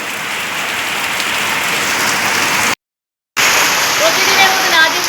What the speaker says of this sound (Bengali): প্রতিদিনের মতন আজও বৃষ্টি শুরু হয়ে গেছে